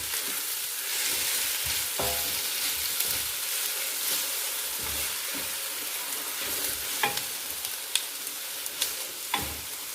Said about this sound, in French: Et on laisse caraméliser tout doucement, sans cesser de remuer à feu doux.